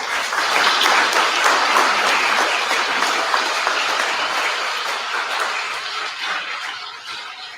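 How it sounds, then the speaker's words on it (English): Sustained crowd applause at a political party presidential primary in Abuja, a dense wash of many hands clapping loudly and fairly close, holding steady and then slowly fading toward the end. "So let's give a round of applause for them."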